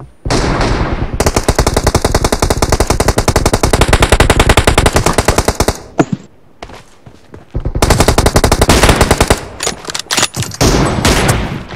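Loud, sustained machine gun fire from the mobile shooter PUBG Mobile during a team deathmatch, with long rapid bursts, a brief break, then more bursts and scattered single shots trailing off at the end.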